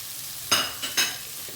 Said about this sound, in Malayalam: ജസ്റ്റ് ഒന്ന് ഇളക്കി കൊടുത്താൽ മതി.